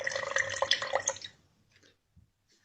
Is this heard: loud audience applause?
no